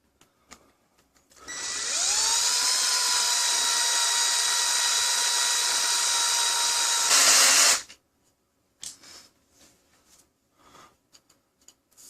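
A high-pitched rotary power tool whines steadily for about six seconds as it deburrs the cut end of a toy blaster barrel tube, then spins down abruptly, followed by light handling clicks.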